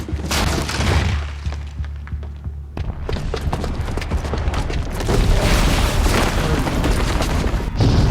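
In Horizon Zero Dawn, a blaze bomb explodes with a deep boom, then rubble crashes and debris shatters in a long, loud, chaotic rumble of impacts and thuds.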